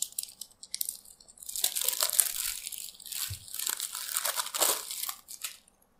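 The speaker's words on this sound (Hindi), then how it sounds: "ये ऊपर पन्नी है, इसको हटाते हैं।" Plastic film is peeled and crinkled off an Infinix Note 5 phone box, giving a close run of crackling and crumpling bursts for several seconds with short pauses between them and no talking.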